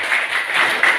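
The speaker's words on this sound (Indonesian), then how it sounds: "Tepuk tangan untuk." A classroom of students claps for a classmate in a brief burst of dense, even applause, fairly close and without talking.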